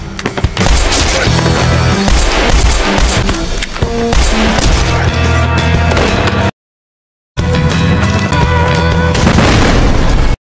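Explosions and gunfire from an action film hit in dense, loud bursts and booms layered over a busy soundtrack, broken by one short silent gap before the barrage resumes.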